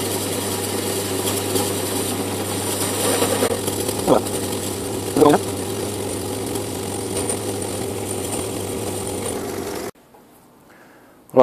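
Metal-cutting tool machining an undercut in a steel workpiece on a lathe while making one-inch thread-cutting couplers, a steady close mechanical drone with two brief louder knocks before the machine stops near the end.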